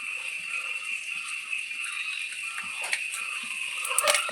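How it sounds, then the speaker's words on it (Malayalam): Mustard seeds pop in hot oil in a pan, a steady crackling hiss dotted with quick sharp ticks and snaps, close up with no talking. "കടുക് പൊട്ടുന്നുണ്ട്."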